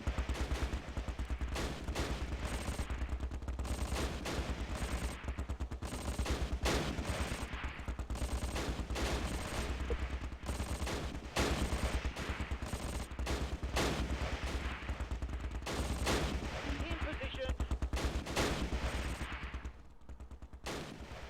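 Rapid, sustained gunfire and machine-gun bursts crackle nonstop in the WWII game Close Combat Last Stand Arnhem, dense overlapping shots at steady loudness that thin out briefly near the end.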